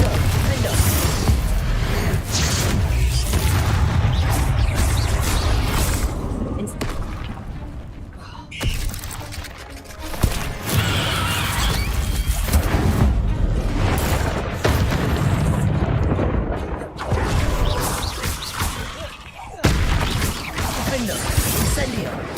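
Repeated Incendio and Confringo spell blasts in Hogwarts Legacy, booming fiery bursts one after another at steady loudness, with a voice talking over them throughout.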